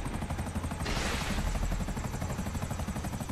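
Buzzard attack helicopters fly overhead over the city in GTA 5 Online, a loud continuous rotor thudding with rapid rhythmic chopping and a brief burst of harsher noise partway through.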